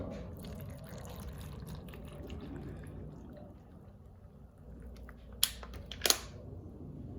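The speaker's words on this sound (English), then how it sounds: "I'm going to add some water." Water is poured into a blender over wild blueberries, half a banana and a quarter of an avocado for a smoothie, a soft, steady splashing trickle ending in a couple of sharp clicks.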